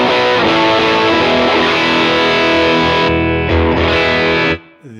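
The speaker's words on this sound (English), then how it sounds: "Let's go to the AC30, see what it sounds like pushing a Vox." An electric guitar through a driven Vox AC30 amp rings out in sustained, overdriven chords, loud and saturated, before cutting off and decaying into a brief, thinner tail.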